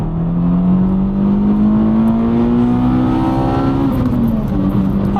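A Toyota Corolla T-Sport hot hatch pulls hard under acceleration, its engine note climbing steadily up to the rev limiter before dropping back, loud and continuous from inside the car.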